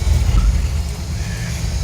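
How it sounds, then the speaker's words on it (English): Heater fan motor inside a Jeep Wrangler YJ, running as a loud, steady low rumble and whir that fills the cab without a break. "That's the fan for the motor. The heater."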